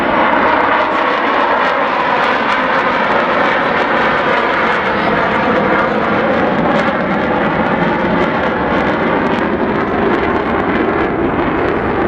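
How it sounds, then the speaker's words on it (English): Avro Vulcan XH558 bomber with old Olympus engines flying past at the Scottish Air Show on Ayr beach, a loud sustained roaring howl with broadband rumble and wind buffeting, steady for the whole stretch. "The one and only Avro Vulcan."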